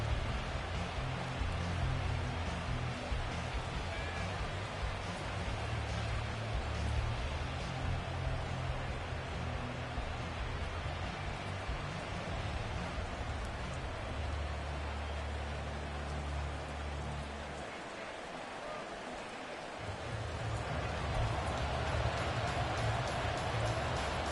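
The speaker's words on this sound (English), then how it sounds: "The rain set to continue as we are underway in the second half." Steady rain hisses across a stadium during a Madden NFL 24 football game between the Ravens and Tampa Bay, a continuous broadband wash with a low rumble that briefly drops out near the end.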